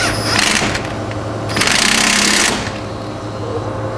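A powerful impact wrench tightens a 19mm bolt on a Corvette C5/C6, loud rattling hammering in two bursts close to the microphone.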